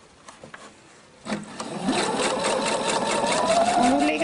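A Husqvarna Viking sewing machine runs steadily as it stitches over a piping seam, starting after a second of quiet and holding a continuous, close whirring hum that rises slightly in pitch toward the end.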